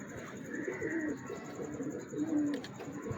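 Several pigeons coo in low, rolling murmurs, close by and moderately loud, with repeated calls over a soft bed of rustling and faint background noise.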